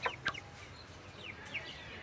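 Four newly bought broiler chickens, three hens and a rooster, give a few short, faint clucks and squawks, with a louder pair of calls at the start and quieter ones later.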